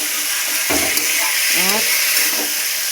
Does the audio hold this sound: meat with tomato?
yes